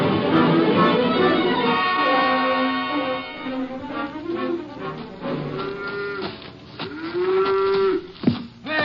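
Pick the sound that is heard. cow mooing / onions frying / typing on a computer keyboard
cow mooing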